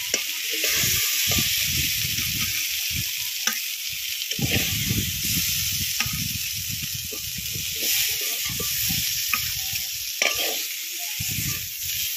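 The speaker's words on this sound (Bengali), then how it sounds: "মাছের ঝাল রান্না হয়ে যাচ্ছে, আর মাছের জল দেবো না" Spicy fish curry sizzles and hisses steadily in a wok over a fire outdoors on a sandy island, with intermittent stirring scrapes and no talk.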